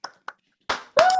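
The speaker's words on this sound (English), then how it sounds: "let's give them a clap for sure" Scattered audience applause for a board of directors at a Dog Tag Fellowship Program graduation ceremony: a couple of isolated claps, then brief bursts of clapping under a voice.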